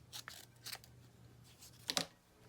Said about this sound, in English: get my scissors, cut this down